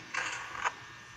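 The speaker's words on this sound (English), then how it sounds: "That stupid door closed." Office door sliding shut in the horror video game Five Nights at Freddy's 2, a single mechanical creaking slide of about half a second ending in a sharper clunk, alone and fairly faint.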